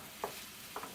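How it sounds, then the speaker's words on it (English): Beef pieces browning in a pan are stirred, two brief scraping clacks over a faint, steady sizzle. "But definitely give them a little light stir"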